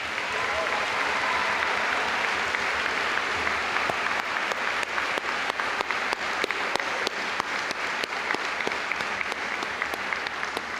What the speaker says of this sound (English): Please give yourselves one last round of applause.